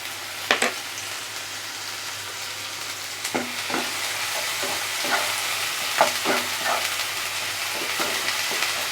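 Ginger and garlic paste frying in a pan for masala pomfret, a continuous close sizzle broken by repeated scraping and tapping strokes of stirring, with no talking.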